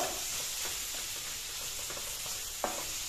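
Pineapple curry sizzles steadily in a hot pan, with a few soft stirring scrapes and one sharper clink near the end, close and continuous with no voices.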